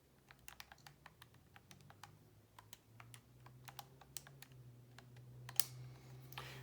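Keys tapped on a graphing calculator while entering a normal CDF calculation, a quick irregular series of light plastic clicks, close and fairly faint, with no talking.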